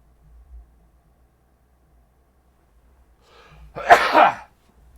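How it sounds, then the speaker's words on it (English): A single sharp sneeze bursts out near the end after a short quiet intake of breath, close and loud against silence. "Gotta sneeze."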